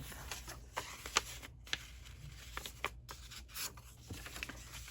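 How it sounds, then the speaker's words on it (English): Paper pages for a junk journal folio being folded in half, soft rustles, rubs and crisp creasing swipes close to the microphone in an irregular rhythm. "I'm just gonna fold these in half."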